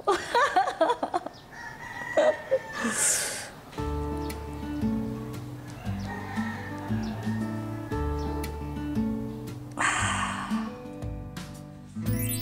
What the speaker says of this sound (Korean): 처음에 여기 와서 닭 소리 때문에 잠을 못 잤는데 이제는 뭐 자장가처럼 들려요